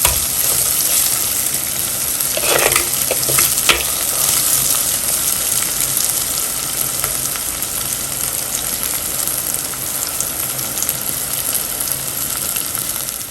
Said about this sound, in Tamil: வெங்காயம் பார்த்தீங்கன்னா ஒரு அரைவாசிக்கு நல்லா வதங்கிக்குது